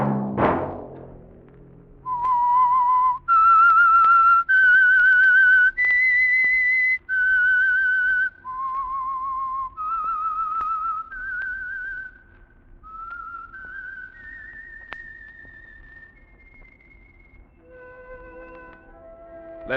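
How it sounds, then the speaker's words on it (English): The eerie whistled theme of The Whistler radio drama, a solo human whistle carrying a slow, sustained melody of long held notes rising and falling, clear and close with no other sounds. "Let that whistle be your signal for the Signal Oil program, The Whistler"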